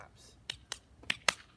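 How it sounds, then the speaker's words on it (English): Four sharp hand claps or snaps in quick succession, each a crisp close pop spaced about a quarter second apart, alone over quiet room tone. "Now, 2 claps."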